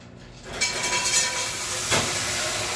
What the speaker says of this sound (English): Steaming right up. Listen to that.